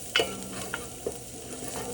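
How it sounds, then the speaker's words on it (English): A spatula pushes onions around a hot pan as they fry and build a browned fond, with a few scattered scrapes and clicks over a soft, steady sizzle for macarona bechamel. "Just push these onions around."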